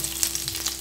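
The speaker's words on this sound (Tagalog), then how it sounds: "Then, ilagay natin yung ating sibuyas." Onions hitting garlic already frying in a pan for Bisaya pancit give off a brief, steady, close sizzle with a soft crackle throughout.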